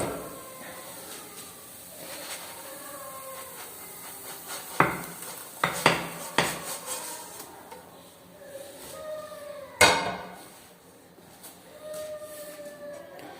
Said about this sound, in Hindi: तो अब हम इसे प्लेट में डाल दें